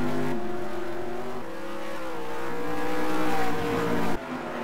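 A race car at Yas Marina accelerates hard out of a corner, its engine droning loud and close with rising pitch through the gears, then cutting off abruptly near the end.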